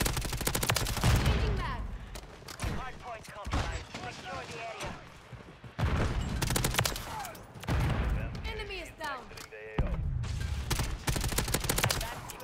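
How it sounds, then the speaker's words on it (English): Gunfire and an RPG rocket blast in the video game Call of Duty MW3, with loud bursts of automatic fire and heavy explosive hits. A player talks throughout over the shooting. "He had a rocket. I don't know how I survived that. That was an RPG."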